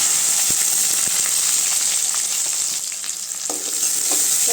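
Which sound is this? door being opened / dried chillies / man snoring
dried chillies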